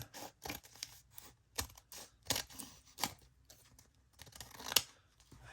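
Scissors snip and trim paper for a junk journal in a quiet room, a string of short crisp cuts at an irregular pace, fairly faint and close.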